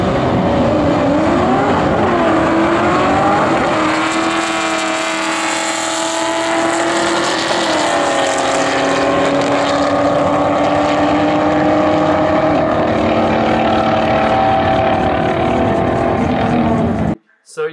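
Loud drag-racing engines, including a 2001 Bullitt, roar close by at an airport race, their pitch climbing as they accelerate hard, with wind buffeting throughout before a sudden cut-off.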